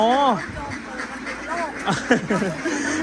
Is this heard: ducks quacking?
yes